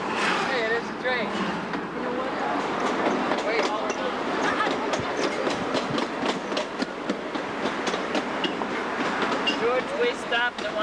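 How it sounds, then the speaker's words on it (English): A train rumbles past with steady clickety-clack of wheels on rails, loud and continuous, with people talking faintly underneath. "Hey, it is a train."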